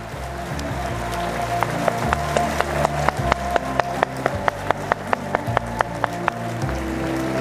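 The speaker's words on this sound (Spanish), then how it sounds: "lo menos que podemos hacer es darle el aplauso a nuestro colega" Audience at a professional association induction ceremony applauding a colleague, with scattered clapping and a steady rhythm of sharp claps standing out over background music.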